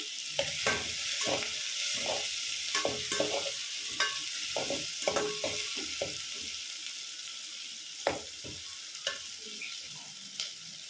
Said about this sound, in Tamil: இது நல்லா ப்ரௌன் கலர் ஆகிற வரைக்கும் கொஞ்சம் நல்லா வதக்கி வச்சுக்கலாம்